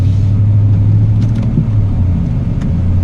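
A 2018 Dodge Ram 1500 Night Edition pickup truck with a turbo engine drives off with a loud, steady low engine rumble and road drone heard from close by.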